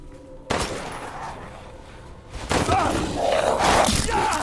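Gunfire in the video game Resident Evil Village: sharp bursts of rapid shots with thuds, loud and close, coming in two clusters, with players talking.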